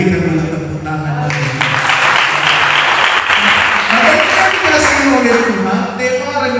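A church congregation bursts into dense, loud applause during a Christian sermon, a continuous wash of many hands clapping that swells and then tapers, with voices audible underneath.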